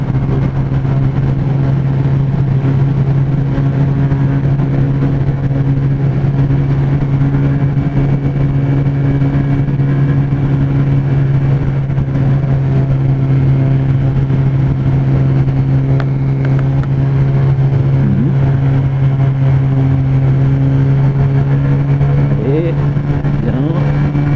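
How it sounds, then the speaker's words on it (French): Mash Seventy Five motorcycle riding and accelerating through short gears, a steady droning engine note under heavy wind rush, loud and continuous with slight pitch rises. "Les vitesses en même temps tirent assez court, donc on a une petite accélération sympa."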